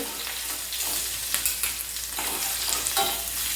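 Turmeric and a large green chilli frying in oil over a low gas flame for a potato usal, a steady close sizzle with scraping stirs and small pops throughout, no talking.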